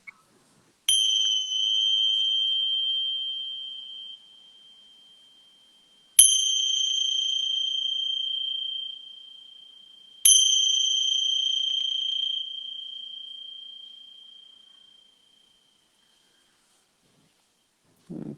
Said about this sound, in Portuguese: Receba então o som do sino.